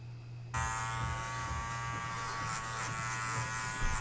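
An Andis Cordless Master hair clipper switches on and runs with a steady, close electric buzz and a strong low hum, continuing evenly after the start.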